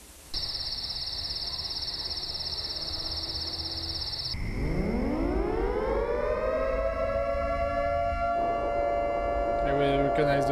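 A video game civil defense siren, from Midwest Angelica, winds up and holds a long wailing tone, loud and close, after a steady high electronic tone, with a second siren joining near the end.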